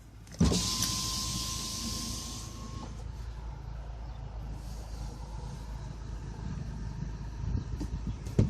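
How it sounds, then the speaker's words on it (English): A 2018 Volkswagen Golf GTI estate's power window motor whirs steadily for a couple of seconds, then the car's interior stays quiet with a low background hum, followed by a soft thump near the end. "All four windows are auto up and down."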